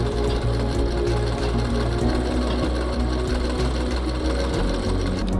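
A sewing machine runs steadily at close range, stitching a frill onto fabric for a garara outfit with a fast, even mechanical chatter and no speech.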